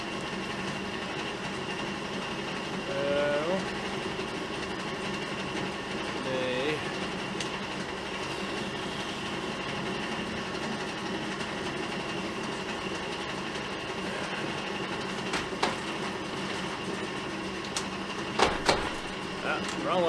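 G&E metal shaper machine cutting its first chips, a steady continuous mechanical drone with a few faint scraping sweeps and clanks near the end, close by, with someone talking at times over the machine noise.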